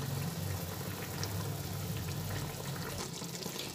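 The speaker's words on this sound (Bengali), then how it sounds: "আমি এখানে ছোটো বাটির 1 বাটি জল দিলাম।" Water pours steadily into a pan of eggplant curry with kasundi mustard sauce, a continuous close splashing rush with no voices.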